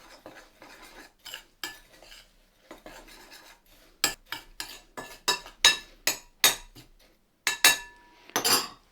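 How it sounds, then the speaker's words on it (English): A utensil scrapes and clinks against a bowl in quick, irregular strokes while mixing self-raising flour, rolled oats and caster sugar for a crumble, getting louder and more rhythmic toward the end, with no talking. "the self-raising flour, the rolled oats, the caster sugar, and we give it a mix"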